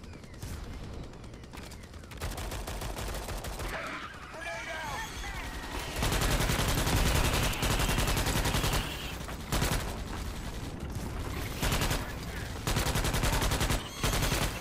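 Rapid rifle and machine-gun fire from a first-person war shooter playing as a Ranger class, with dense bursts and sustained fusillades throughout, loud and close, while a player talks over the battle.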